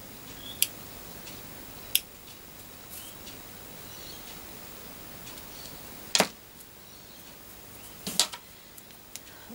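Scissors snip through a lace card with a few sharp, isolated cuts spaced across a quiet room, the clearest pair coming close together near the end.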